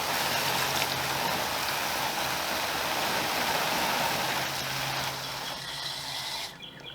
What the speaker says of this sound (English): I like to use this spray pattern right here. You see I'm agitating the water.